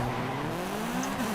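A meta-class asphalt race car in the Forza Horizon 5 video game holds a steady, loud engine drone whose pitch climbs slightly near the end, with no talking.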